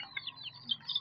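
Faint, high peeping chirps of village chicks in a coop come in short bursts, scattered irregularly against a quiet background.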